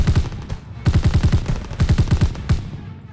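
Machine gun fire in the Call of Duty WWII video game, several loud close bursts of rapid automatic shots separated by short pauses, with no talking.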